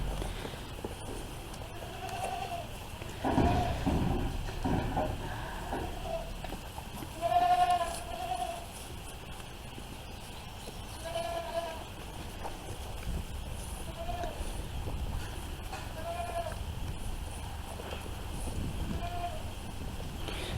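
Several goats shut inside a barn bleat now and then, wanting to be let out. The calls come in scattered bursts over a steady background hum, some near and some farther off, with no one talking.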